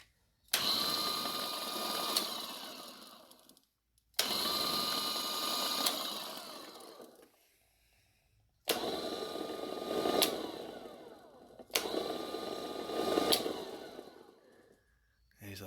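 Rebuilt Go-Ped electric scooter motor running on 24 volts, with a steady high whine in four bursts of a few seconds each, starting and stopping abruptly with short silences between, close and fairly loud.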